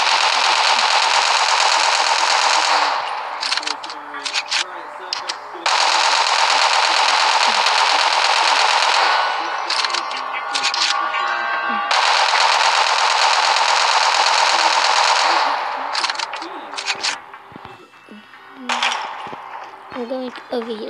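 Bursts of rapid automatic gunfire in a Call of Duty zombies mode, loud sustained volleys broken by short pauses, with scattered clinks and game effects in between.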